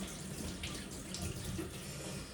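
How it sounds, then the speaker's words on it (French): Hands rinsed under a running kitchen tap after preparing a tomato tart, a steady soft rush of water splashing into a sink. "Je vais rincer mes mains parce que j'en ai partout."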